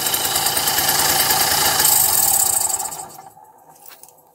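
A Motobecane AV 33 moped engine runs steadily with a buzzing, sewing-machine-like rattle, close and fairly loud, then is switched off after about three seconds and fades into near silence.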